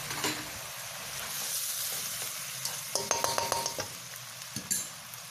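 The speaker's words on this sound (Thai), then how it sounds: "ผัดเข้าไปค่ะให้เข้ากัน" Spring roll filling seasoned with oyster sauce, soy sauce and sugar is stir-fried, a low sizzle under a quick run of metallic spatula clinks against the pan midway, then a few more scrapes.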